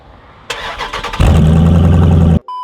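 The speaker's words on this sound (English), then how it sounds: "I do have to do a standard startup though with nothing on it, of course, to see what it sounds like" Starter cranks on a Jeep Grand Cherokee SRT with no exhaust fitted, then the engine catches with a loud, raw, rumbling bark and idles roughly before abruptly cutting off.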